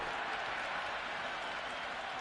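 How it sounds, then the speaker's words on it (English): A cricket crowd at an India versus South Africa T10 match cheers and applauds in the stands, a broad steady roar of clapping and voices heard from a distance. "There's a buzz, a real buzz coming from the stands."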